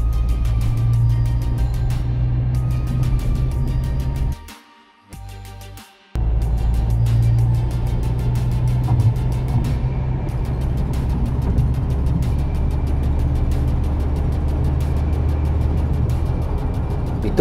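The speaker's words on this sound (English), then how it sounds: "After driving through city traffic, now it is the time for highways." A Ford Freestyle compact utility vehicle cruises on a highway, its steady engine and road rumble droning almost continuously, with a brief drop around the middle before the even cabin noise returns.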